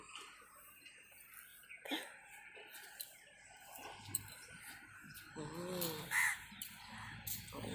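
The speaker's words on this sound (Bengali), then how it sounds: "এই হচ্ছে কাকুল, খালি কাউ" A crow caws outdoors, giving several harsh calls at moderate distance over low background noise.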